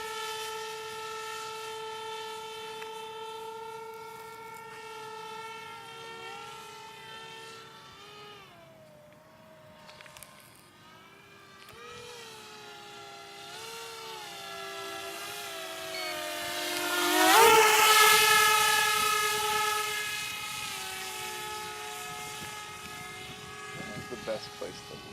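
A small RC airplane, built from recycled quadcopter parts, makes a pass overhead, its buzzing electric motor rising and falling in pitch and swelling loudly as it sweeps closest, with someone talking over it.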